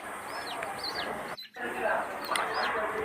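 Young domestic chicks in a Bangladeshi flock chirp and peep in thin, repeated high calls over steady farmyard background noise, with one brief dropout midway.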